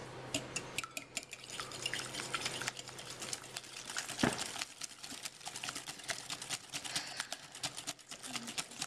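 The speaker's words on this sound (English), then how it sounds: "We're going to whisk this to get all the air we can into it, so it's light, it's fluffy, and it's thick" A hand whisk beats a lemon tart mixture in a bowl with rapid, continuous clicking strokes and wet slapping, close and steady throughout.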